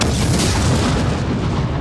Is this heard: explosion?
yes